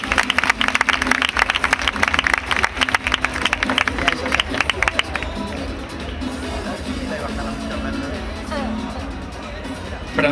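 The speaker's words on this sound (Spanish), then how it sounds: "Un aplauso para ellos." Dense audience applause at a festival event held by the Huelma town council, loud and continuous for about five seconds before fading into crowd murmur and scattered voices.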